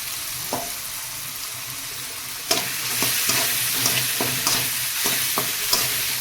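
Ginger, garlic and tomato sizzle with fried onion in oil in a pan for a tilapia fish curry, close up, with a run of regular scraping stir strokes and a steady frying hiss, without any talking.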